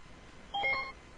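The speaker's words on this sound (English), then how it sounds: "Hold on, we got a phone call." A brief electronic tone marks an incoming telephone call on a radio show line, a single short burst of beeping lasting under half a second, clear and near against quiet background hiss.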